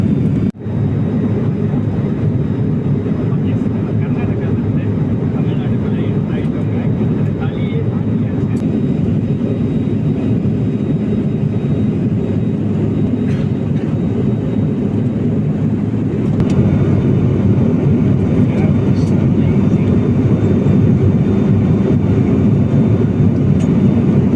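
Steady, loud broadband roar inside the cabin of an Alliance Air airplane in flight between Bengaluru and Tamil Nadu, continuous engine and airflow noise that rises slightly partway through, with no clear speech.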